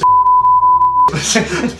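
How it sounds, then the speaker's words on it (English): Censor beep laid over a spoken brand name during a relaxed tea-time chat, a steady pure tone sounding in several short pulses for about a second, then ending abruptly as a woman's speech resumes. "we are not allowed to name brand names online unless they are sponsors, so I have to beep that now"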